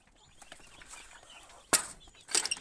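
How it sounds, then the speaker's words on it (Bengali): Native deshi chickens and roosters on a farm give quiet clucks in the background, then two louder, sharp bursts of squawking and flapping near the end. "আর দেশি মোরগ দেখো, আরও মোরগ আছে আমার"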